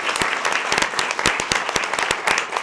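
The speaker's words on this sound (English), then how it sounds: "give him a round of applause" Audience applause at a school board meeting honoring a state champion high jumper: steady, dense clapping from a room of people, with sharp individual claps standing out throughout.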